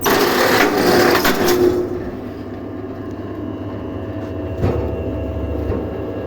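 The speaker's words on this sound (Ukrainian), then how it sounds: "Двигун" A 2.2 kW electric motor driving a firewood splitter through a belt hums continuously at close range, louder at first with some whirring and clatter, then settling into a steady running drone.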